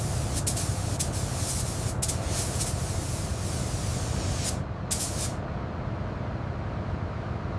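A spray gun lays a light base color coat on a 1979 limousine jet, a steady close hiss of paint spraying with a few brief sharper bursts and no talking.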